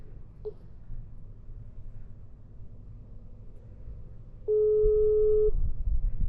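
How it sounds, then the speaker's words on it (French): A single electronic ringing tone sounds on an Asmax F1 motorcycle intercom, a steady beep lasting about a second over low rumbling background noise. "Ça sonne."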